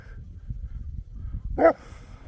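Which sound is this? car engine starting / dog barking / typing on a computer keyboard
dog barking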